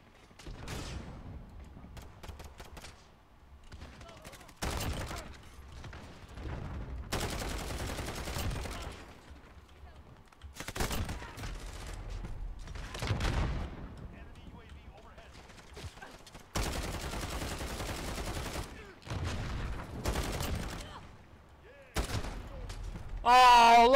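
Marksman rifle gunfire in a shooter video game comes in repeated sharp bursts separated by short gaps, fairly loud, with a voice talking over parts of the clip.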